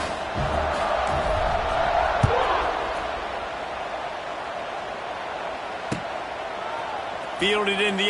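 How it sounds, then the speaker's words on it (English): A football stadium crowd murmurs and buzzes after a touchdown and extra point, a steady mid-level roar with a few sharp thumps, while a commentator's voice runs over it and a brief tonal cue sounds at the end. "this crowd is buzzing after that last score"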